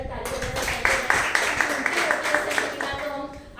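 An audience applauding at a gathering, producing a dense patter of clapping with a few sharper individual claps, moderately loud and close, mixed with a voice talking over it.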